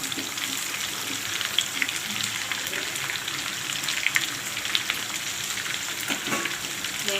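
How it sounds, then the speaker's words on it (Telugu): A tempering of spices sizzles in hot oil before onions are added, for a spicy egg curry: a continuous, crackling fry holds close and even, with faint pops scattered through it and no talk. "ఇదండి, తాలింపు వేగుతుంది."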